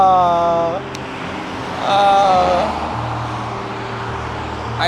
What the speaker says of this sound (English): I never missed sound of traffic so much.